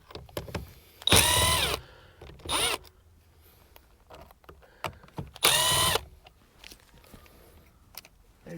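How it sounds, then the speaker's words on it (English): Phillips #2 screws come out of a 1997 Ford Explorer's cruise control assembly in two loud, whirring bursts, with a shorter buzz between them and faint clicks and handling noises around them. "Take off the screws."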